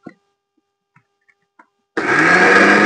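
An electric blender grinds soaked lentils with two green chillies, starting abruptly after a few faint clicks and quiet handling sounds, then running loud and steady to the end.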